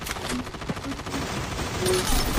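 Gunfire in the mobile shooter game Call of Duty Mobile comes as rapid, crackling bursts and single shots layered over dense in-game noise, loud and close.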